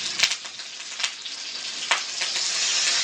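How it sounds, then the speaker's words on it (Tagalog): Chopped garlic and onions hiss loudly in a hot pan, a steady close sizzle broken by a few sharp crackling pops, with no voices. "Nalagay na natin ang bawang at sibuyas."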